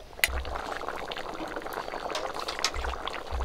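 Snakehead fish and elephant foot yam simmer in a pan, a steady close bubbling and sizzling that runs throughout, with a few sharper crackles near the start.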